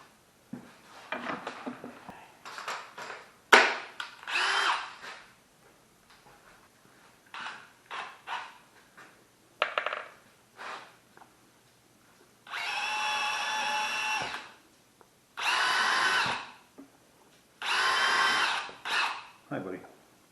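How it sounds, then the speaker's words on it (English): A power drill bores holes in a workpiece that is then riveted, with short whirring bursts early on and several longer sustained runs of the motor later, close and loud, with talking in between. "So let's drill this and rivet it a bit and fill it with sand and see how we do."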